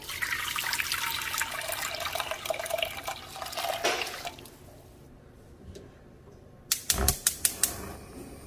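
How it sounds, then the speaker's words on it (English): Three cups of water stream and splash steadily into a pot for several seconds, then thin out, followed by a few sharp clinks near the end. "I'm going to go in with 3 cups of water."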